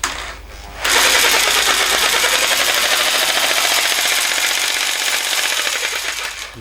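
A jigsaw with a newly repaired blade clamp runs in a steady, loud, buzzing reciprocating whir for several seconds after a brief quieter moment, close by and alone.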